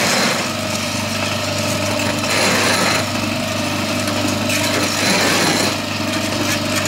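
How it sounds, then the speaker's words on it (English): A homemade sand muller's motor runs steadily while turning and mixing foundry sand for a home foundry, a loud continuous droning hum with slight grinding texture and no stalling. "There's certainly not a problem with power. It's rotating that. No sign of the motor stalling or laboring at all."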